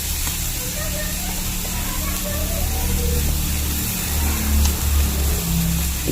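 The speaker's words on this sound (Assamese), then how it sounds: "এতিয়া মই পানীখিনি দি দিম" Hot water poured into a pan of frying moong dal, a loud continuous sizzling hiss that swells and surges over several seconds.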